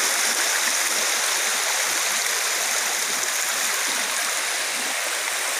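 Spring water spilling over a small waterfall at Tobo Tobo Mini Falls in Matalom, Leyte, a steady, close, full rushing hiss with no pauses and no voices.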